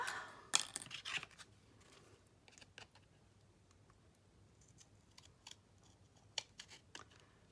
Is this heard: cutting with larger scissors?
yes